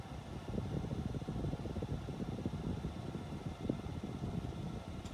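A Minka Aire Mesa 42-inch ceiling fan running off a power inverter gives a steady, soft whoosh of moving air with a low fluttering rumble, constant and fairly quiet throughout.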